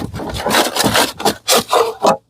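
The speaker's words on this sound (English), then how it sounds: "Excuse me while I pull the cover off." A plastic cover is pulled and scraped off the 20-inch bar of a Ryobi 40V chainsaw. The sound is close and loud: rough rubbing and scraping in several strokes, ending in a few short separate pulls.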